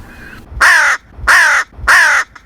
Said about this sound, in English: Everyone knows the call of the hooded crow, a loud, harsh and hoarse caw.